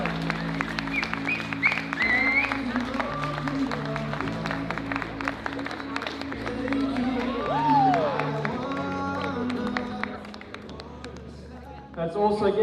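Guests at a wedding reception applaud as the bride's parents come onstage, scattered clapping and some cheering under music and voices, with a louder burst at the end.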